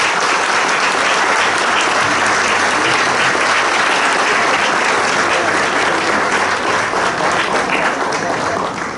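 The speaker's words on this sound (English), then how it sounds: "I would request all of you to please put your hands together for a loud round of applause" Participants at an orientation course on GST law give a loud, sustained round of applause, a thick, continuous roar of clapping that holds for about nine seconds with no talk over it.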